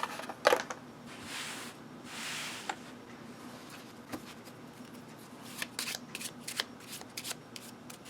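Playing cards are shuffled close up, with several quick riffling bursts and soft handling sounds in a quiet room.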